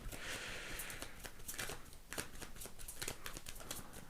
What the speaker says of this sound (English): It's really wanting me to shuffle for these last 3 cards.